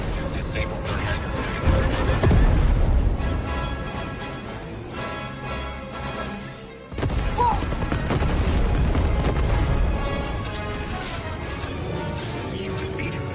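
A spaceship in Star Wars Outlaws takes fire, with loud, dense bursts of explosions and mechanical clatter rolling on through the whole stretch, briefly dropping off midway before surging back under occasional voices.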